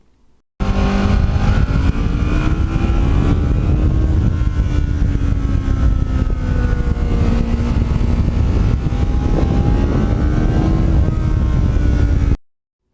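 A custom Kawasaki Ninja motorcycle rides on an open road, its engine droning loud and close with steady pitch shifts as it accelerates and eases off, plus wind rush, ending abruptly.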